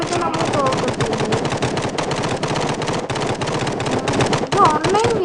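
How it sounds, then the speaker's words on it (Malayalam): Rapid machine-gun fire and explosions from an online prop hunt video game hammer on without pause, dense and loud throughout. "എത്ര വെടി വെച്ചിട്ട് ബോംബിട്ടിട്ട് പോലും ഇവനൊന്നും പറ്റുന്നില്ല"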